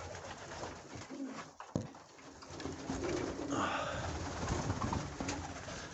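Pigeons coo softly inside a frosty winter loft amid rustling and shuffling, a faint voice murmuring in the background and a sharp knock partway through.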